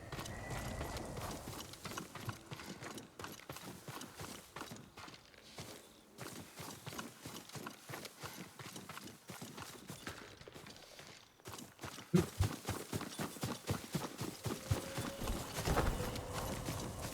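Horse hooves clip-clop steadily across the ground in Ghost of Tsushima, a rhythmic walking beat that grows faster and louder toward the end, with rustling ambience and no talking.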